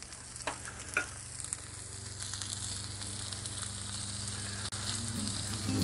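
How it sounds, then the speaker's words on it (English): Steady frying sizzle from a sausage patty on a hot Lodge cast iron griddle over a campfire, a continuous hiss with a few light clicks and scrapes near the start. "You can hear that sizzle, boys."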